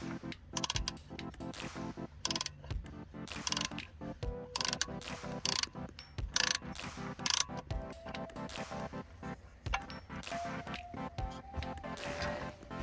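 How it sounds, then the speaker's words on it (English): A small mini ratchet from a cordless screwdriver kit clicks steadily and up close, with rapid ratcheting pawl ticks in repeated bursts, loud and alone without speech. "It comes with a little mini ratchet where you could put some small bits like"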